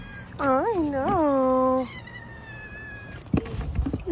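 A frightened house cat gives two loud, close, drawn-out meows in quick succession. Quieter rustling and clinking follow in an indoor room.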